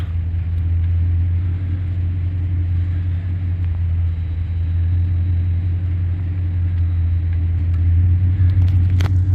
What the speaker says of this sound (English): The vehicle is just running